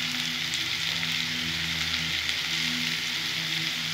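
Potatoes with salt and turmeric fry in hot oil, giving a steady, dense sizzle that holds even and close throughout, with no voices.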